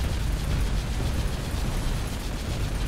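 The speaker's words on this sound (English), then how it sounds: "I'm gonna shoot the magic crystal thing on the gun." A Halo 3 gun fires at a crystal, giving a loud, sustained, crackling burst of dense blasts and mechanical rattle that runs unbroken, with no voices over it.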